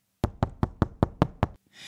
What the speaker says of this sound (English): Here's the sound of the perspex screen surrounding the drum kit.